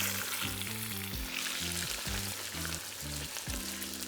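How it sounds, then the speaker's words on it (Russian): Potato pieces frying in very hot oil in a kazan, a loud, steady, close sizzle and crackle with faint low tonal sounds underneath and no voices. "После того, как закинули картошку в раскаленное масло, первые 2 минуты ее не трогаем"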